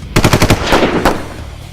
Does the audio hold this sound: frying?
no